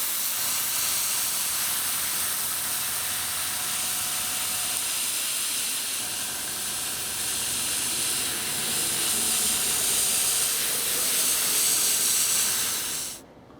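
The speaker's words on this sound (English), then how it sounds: "don't spray them like I'm about to" An aerosol spray paint can hisses in a long, continuous, close burst for over thirteen seconds while weathering model railway track sides, then stops abruptly.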